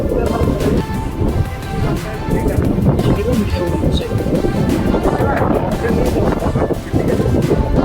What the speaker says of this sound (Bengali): দেখো কি সুন্দর হাওয়া দিচ্ছে